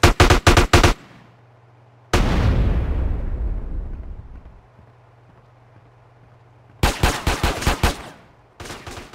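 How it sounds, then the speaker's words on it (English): Bursts of automatic gunfire in GTA San Andreas, close and loud rapid clusters of shots, broken by a booming blast that rumbles away, then more quick volleys near the end. "Now who's shooting?"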